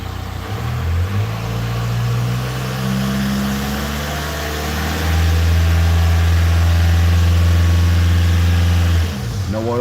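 A car engine starts and idles with the mass airflow sensor disconnected, running rough and uneven with a loud steady low hum that shifts in pitch before cutting off near the end.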